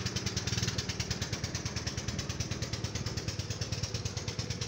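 A loaded vehicle on a slippery dirt hill, its engine laboring and its tyre spinning and burning as it fails to climb, giving a steady rapid chugging clatter that runs unbroken, with no talk.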